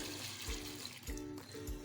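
Water poured from a glass into a kadhai holding soaked whole masoor dal with onion and tomato, a steady close splashing pour that swells in short surges, with no talking.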